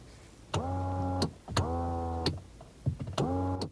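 A Toyota Land Cruiser 200 power seat's lumbar motor whirs in three short bursts, each a steady whine with a click at start and stop, quiet and close, with brief pauses between.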